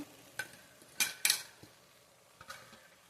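Washed lentils going into a frying pan with fried seasoning, heard as a few faint clinks and scrapes of a spoon against the pan over a low, quiet sizzle.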